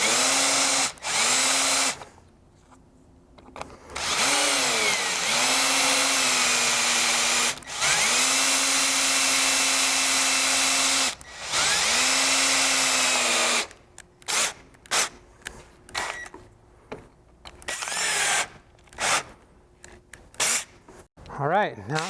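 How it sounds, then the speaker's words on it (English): A power drill bores into the steel roof of a Toyota Tundra to take rib nuts, whining in several loud bursts that dip and recover as the bit bites, separated by short pauses and followed by scattered clicks and handling noises. "Let the drill bit work. Don't work the drill bit."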